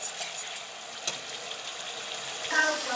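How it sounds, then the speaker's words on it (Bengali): Spice masala frying in oil gives a steady, faint broadband sizzle with a few light clinks from stirring and a brief knock partway through. "মশলাটা ভালো করে কষিয়ে নেবো"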